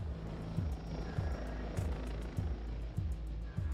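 Helicopter in the video game Crossfire: Legion, a steady loud rotor chop with regular thudding pulses about every half second over a dense engine roar, with no talking.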